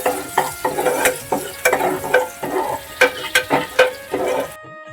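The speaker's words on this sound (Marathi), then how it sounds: "कांदा पूर्णपणे हलवून घेऊया" Onion frying in a pan for a mutton curry, stirred with a spatula in rhythmic scraping strokes over a soft sizzle, loud and close, ending suddenly in silence.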